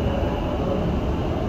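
Dubai Metro Green Line train running between stations, a loud, steady rumble of wheels and motors heard from inside the carriage, continuous and with no voices.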